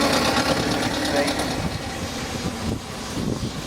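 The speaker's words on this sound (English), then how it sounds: "Another one of the agricultural engines" Steam agricultural traction engine running at a rally, a steady low chugging rumble with mechanical knocking, moderately close, amid outdoor crowd noise and some voices.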